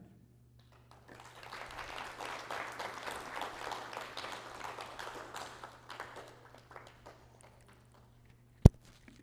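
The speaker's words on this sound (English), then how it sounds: "One more round of applause for Gabe, guest speaker." Audience applauding a guest speaker at an evening talk: a steady patter of clapping from a modest crowd that swells, holds for several seconds, then thins out and fades, followed by a single sharp knock.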